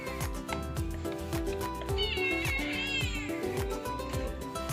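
Several cats meow loudly and insistently, overlapping one another with rising, drawn-out cries, close by and continuous.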